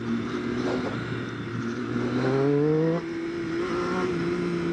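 A 2013 Triumph Street Triple 675 R three-cylinder motorcycle engine hums under load while riding, its pitch climbing as it accelerates, then dropping and rising again, loud and close.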